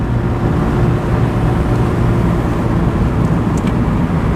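A 2016 Mazda MX-5 with the top down cornering on the road, a steady engine drone mixed with road and wind noise throughout, close and fairly loud.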